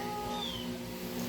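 An irritated house cat lets out a single drawn-out, whiny meow at close range in a quiet indoor room.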